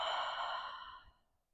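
A single soft, breathy exhale during a yoga session, close and quiet, fading out over about a second.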